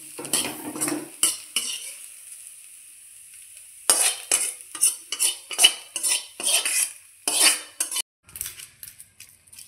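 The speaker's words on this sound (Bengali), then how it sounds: "যেন আমার পেঁয়াজটা ভাজা হয়ে গেছে" Onions frying in a pan for a dal bori and raw banana dish, with a utensil stirring and scraping in sharp, repeated clinks over a soft sizzle, close and fairly loud.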